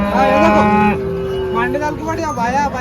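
A cow moos loudly nearby at the Chalisgaon cattle market in a long drawn-out call, followed by a second, wavering moo.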